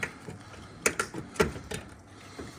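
A metal pin being pulled from a lawn mower deck, giving a few sharp metallic clicks and clinks spaced about half a second apart, close and fairly quiet.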